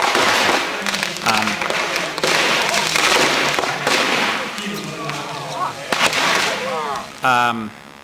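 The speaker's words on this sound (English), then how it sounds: "So these are sodium explosions also, photographed with special setup" Sodium lumps are thrown into a small lake and explode at an outdoor party, loud repeated bangs and sharp pops echoing one after another, with people talking and cheering around them.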